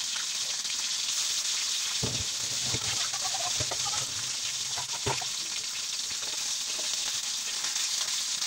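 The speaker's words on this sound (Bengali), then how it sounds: "তেলটি গরম হয়ে গেলে মাছগুলো হালকা করে ভেজে নেব।" Magur catfish pieces fry lightly in hot oil in a kadai, giving a steady, close sizzling hiss with a few soft pops and crackles. No one speaks.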